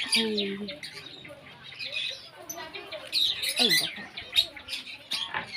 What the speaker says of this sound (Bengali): কিছু কিছু আওয়াজ হচ্ছে বেশ ভালো লাগছে এর মধ্যে পাখি আছে